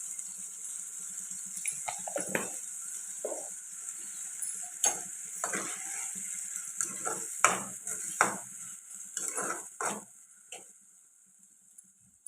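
Tomatoes, salt and masala fry in a pan for egg curry, with a steady faint sizzle under repeated scraping stirs of a spoon against the pan.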